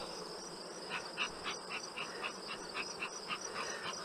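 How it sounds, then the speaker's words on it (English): Dense swarm of honey bees buzzing around the crowded fronts of two hives, a steady close drone with individual bees flying past in brief louder passes. "The entire front of both of these hives is just thick with bees."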